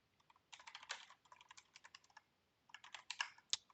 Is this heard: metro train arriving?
no